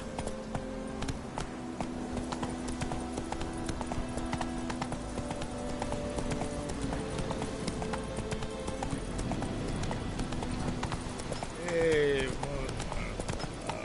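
Horse hooves clip-clop in a brisk, even rhythm as the horse Roach trots in The Witcher 3 video game, with a brief louder snort or whinny near the end.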